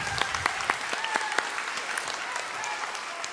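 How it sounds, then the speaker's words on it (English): A round of applause for students at an elementary school end-of-year assembly, a moderate crowd of hands clapping, with a few distinct sharp claps near the start blending into a steady patter that continues to the end. "If you would give all of them a round of applause"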